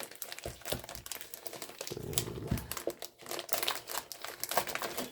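A plastic bag crinkles and rustles in close, irregular bursts during the unpacking of a board game, faint and near.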